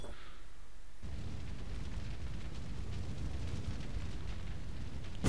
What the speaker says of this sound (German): Ich lasse die Bombe hochgehen.